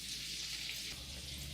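Meatballs fry gently in butter in a pan over very low heat, a soft, steady sizzle and crackle with no voices.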